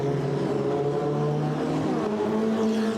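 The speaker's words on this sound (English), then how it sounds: "What a sight, what a sound as they roar past our commentary position here at the Ricardo Tormo circuit." Ferrari Challenge Europe race cars roar past the commentary position on the formation lap at the Ricardo Tormo circuit in Valencia, a loud, steady engine drone with shifting tonal pitch and no talk over it.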